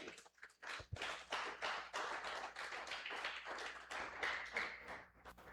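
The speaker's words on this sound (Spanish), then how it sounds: "Denle un aplauso a Cristo" A church congregation claps during a sermon, a quiet, fairly distant patter of hands with a loosely rhythmic beat that carries on steadily for several seconds.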